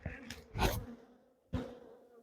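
Honey bee buzzing at a hive in an apiary comes in two or three bursts with quiet gaps between them, close by and moderately loud.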